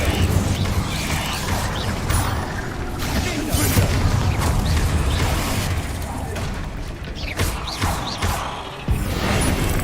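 Spell combat in Hogwarts Legacy, including an Incendio fire spell: dense, continuous whooshing bursts, crashes and thumping impacts layered with mechanical clatter at a loud, busy level, with a voice speaking over it.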